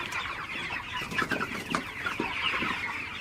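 Broiler chickens on a farm clucking, several birds calling over one another in a continuous busy chorus of short clucks, fairly close and steady.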